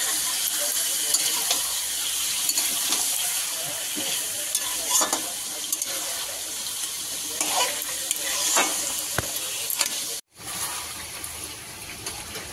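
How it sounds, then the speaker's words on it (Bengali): Chicken meat fries in oil in a pan, a steady bright sizzle with occasional stirring scrapes and short bursts, continuing under faint talk before a brief cutoff near the end. "মাংস দিয়ে একটু তেলে ভেজে নেবে"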